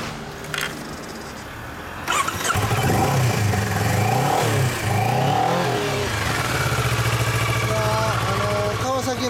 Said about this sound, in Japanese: おお、エンジン音聞かせてもらえる？